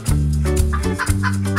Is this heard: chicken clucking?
yes